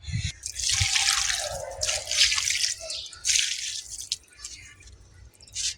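Water poured by hand onto a flowering vine plant in a pot, a close splashing and trickling stream that runs in uneven spurts with drips, no talking.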